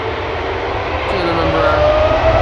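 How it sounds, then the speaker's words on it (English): A Boeing 787-10 Dreamliner jet at Amsterdam Schiphol airport gives a steady, fairly loud engine roar throughout, with a rising whine building in the second half, heard from a distance. "787-10 Dreamliner in the background"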